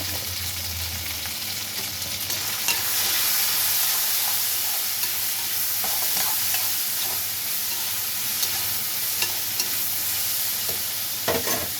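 Ivy gourd sautés with turmeric in a hot pan, a steady bright sizzle running throughout with occasional scraping stirs, close and alone without any voices.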